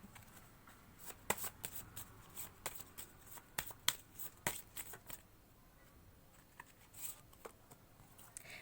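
Tarot cards shuffled by hand in a quiet room, a run of crisp riffling flicks and soft slaps in irregular bursts, close and moderately loud, with no voices.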